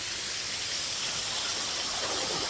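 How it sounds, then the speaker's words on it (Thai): A steady, full rush of falling water roars continuously, broad and hissing, like a nearby waterfall with no voices over it. "อ้เสียงน้ำตก"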